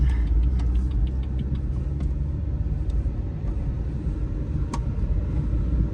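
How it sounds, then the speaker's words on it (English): A BMW M2 rolls up to an alignment shop, its engine a steady low rumble heard from inside the car, with faint clicks and taps over the drone and no talking. "We just pull up to the alignment shop."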